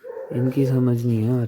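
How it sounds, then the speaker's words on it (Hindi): Dogs bark and whine in a Pakistani neighbourhood during the pre-dawn Ramadan sehri meal, a drawn-out yelping cry heard close by, while a person talks over it. "कुत्ते क्यों भौंक रहे हैं,"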